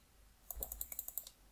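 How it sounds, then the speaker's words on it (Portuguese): A quick run of about eight crisp computer mouse clicks in steady rhythm, close and fairly quiet, with near silence before and after. "vou dando um clique de cada vez"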